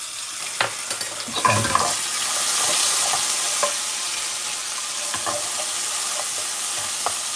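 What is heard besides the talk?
ginger garlic paste sizzling while frying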